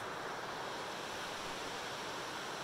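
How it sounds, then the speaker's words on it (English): Steady, roaring rush of a waterfall at the end of a forest trail about half a mile in, a dense wall of falling water heard alone without talk. "A waterfall."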